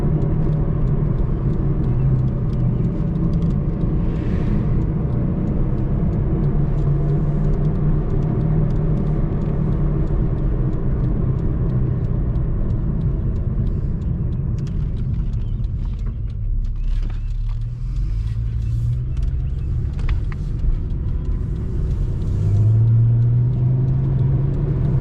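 Cabin view of a car cruising along a road: a constant low engine and tyre rumble with steady road noise, slight swells as it accelerates, no speech over it.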